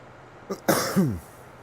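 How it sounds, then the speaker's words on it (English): A short burst of harsh coughing, two or three hacking coughs close up, followed by silence. "Had to get the coughing fit out the way."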